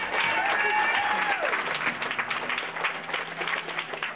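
Audience applause for a pageant contestant, a dense burst of clapping heard alongside overlapping voices and tonal sounds throughout the short stretch.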